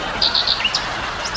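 A pet bird gives a few short, high, quick chirps in a small cluster, fairly faint over a steady background hiss.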